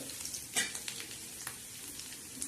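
Cleaned prawns roast in a pan for a potato and prawn tawa dish, giving a steady, fairly quiet sizzle with a few brief stirring scrapes and no voices.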